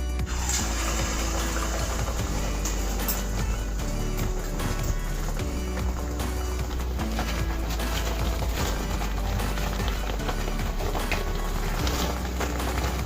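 Corn garelu, lentil-style fritters, sizzle in hot oil in a deep pan, a dense steady crackle and bubbling hiss that carries on without a break.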